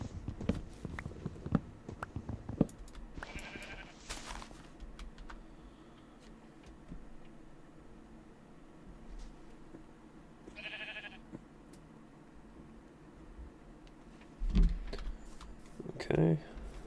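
Sheep in the video game Minecraft bleat twice, the calls spaced several seconds apart and faint against quiet background game noise with light clicking. A voice speaks at times.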